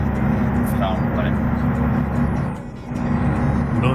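Loud hiss of a truck's air brakes in a truck driving video game, a sustained rushing noise over engine drone, briefly dipping before swelling again.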